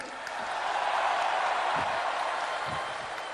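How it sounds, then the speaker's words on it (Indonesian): Crowd at a political rally applauding, a broad wash of clapping and crowd noise swelling and holding steady at a distance, with faint voices mixed in. "Tepuk tangannya kurang semangat."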